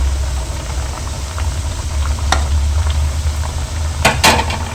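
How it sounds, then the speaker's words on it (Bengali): Thekua frying in hot oil over a low flame: a continuous low bubbling and sizzle with a steady rumble underneath, plus a few sharp clinks and taps, close and fairly loud. "তেলটা একদম গরম কিন্তু একদম লো ফ্লেমে এই সব কটাকে ভেজে নিতে হবে"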